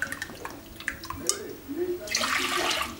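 Water is poured into a saucepan in a home kitchen to cook Turkish rice pudding. The pour is a steady, bright splashing rush that builds over the last second, after softer clinks and kitchen handling noises with faint talk in the background.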